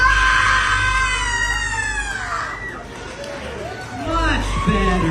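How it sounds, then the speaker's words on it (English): Audience screaming together on a count of three at a Christmas Spooktacular show, a loud burst of many overlapping high shrieking voices that slides and fades, then swells again near the end. "And you'll arise with a great scream when we count to 3."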